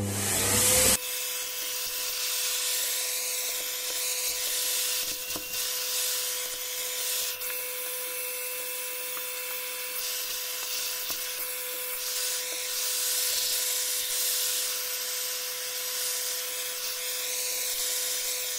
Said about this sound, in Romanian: Apoi o punem aici și începem cu aspiratorul.